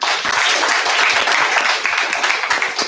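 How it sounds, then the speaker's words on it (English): An office audience applauds an employee of the quarter at an award ceremony, with dense, steady clapping from many hands, loud and close, continuing for the full stretch without talk. "So can we have a clap for him?"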